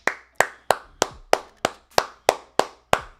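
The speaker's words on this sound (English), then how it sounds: "Clap it up." Ten crisp hand claps ring out one after another at a steady, fairly quick beat, each sharp and close with a short trailing echo, and no voices are heard.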